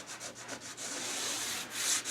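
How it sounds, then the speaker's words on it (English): Hand sanding a copper beech wooden tray with 180-grit sandpaper, a steady close abrasive rubbing with repeated back-and-forth strokes and a louder pass near the end. "Got some 180 sandpaper,"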